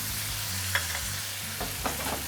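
Shrimp sizzle in butter and Chardonnay in a pan, a dense close hiss with a few brief stirring clinks and scrapes over a low background hum.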